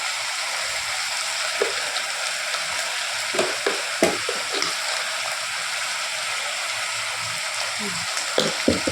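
A spoon stirs mutton keema and fenugreek curry in a sizzling pan, with scattered scraping knocks over a steady frying hiss, no one speaking.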